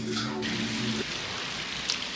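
Steady rain falls outdoors in Turks and Caicos, a dense even hiss that runs throughout, with a low tonal hum in the first second before it fades out.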